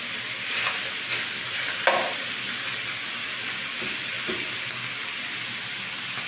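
Beef with vegetables and corn sizzles in a hot pan while being stirred, a continuous close crackle with occasional scraping strokes and no talking.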